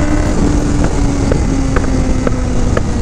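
A Suzuki GSX-S750 motorcycle rides in second gear with a steady engine and wind roar, while about five sharp exhaust pops crackle at roughly half-second intervals.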